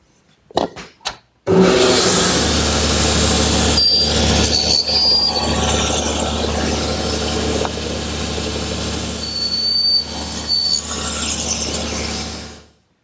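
A table saw cuts tenon shoulders on wooden door rails for a Shaker washstand, with a few sharp knocks, then the motor spinning up and the blade running in a loud steady whine with shifting cutting tones before it winds down, and no talk.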